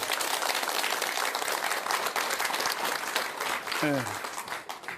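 An audience applauds at a Buddhist dharma talk. The clapping is dense and continuous, with a brief voice over it near the end before the applause thins out.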